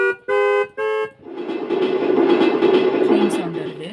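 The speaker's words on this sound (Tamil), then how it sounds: "இங்கே டச் பண்ணால் உங்களுக்கு வருது, கார் ஹார்ன் வருது" Car horn sample triggered from a keyboard, two short loud honks followed by a sustained blaring horn tone that swells and holds to the end, close and alone.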